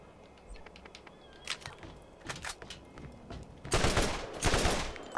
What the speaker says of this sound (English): That's a fucking burst gun, really?